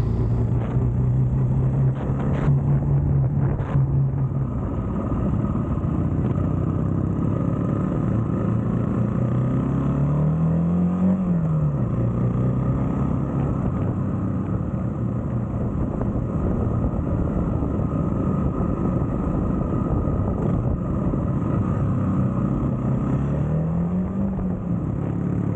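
Jawa 350 OHC and Dněpr motorcycles on the road, a steady loud engine drone with wind rush throughout and a couple of rising revs as the riders accelerate, with no talk.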